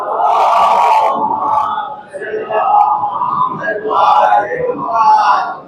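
A congregation at a Muharram majlis in an imambargah loudly chants salawat in unison, several swelling waves of massed voices rising and falling.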